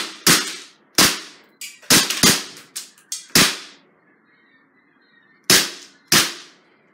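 Sharp BB shots from a Luger BB pistol striking a laptop, about nine loud cracks spaced irregularly over several seconds, some in quick pairs, each with a short rattling decay, no talking.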